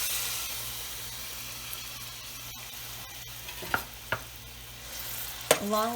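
Tomatoes sizzle in a pan on a medium-low stove with a soft, steady hiss over a low hum, broken by a few brief clatters and scrapes toward the end.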